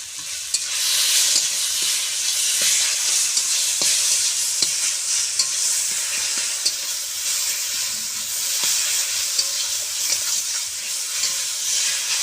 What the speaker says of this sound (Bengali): এভাবে করে হালকা একটু কষিয়ে নেব